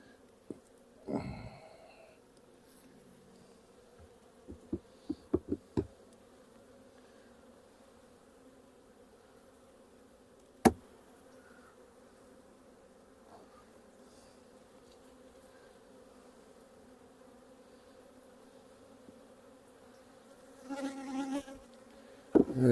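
Honey bees hum in an opened hive, a low, steady drone that runs throughout, with a few sharp handling clicks and knocks close by.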